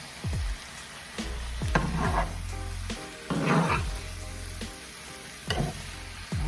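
Loaded potatoes sizzle in a skillet as they are stirred, the frying hiss rising in bursts as a utensil scrapes and turns them, close and clear with no talking.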